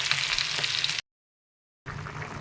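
Panch phoron spices and potatoes fry in a pan with a steady, dense sizzle that cuts out completely for nearly a second before resuming just as strong.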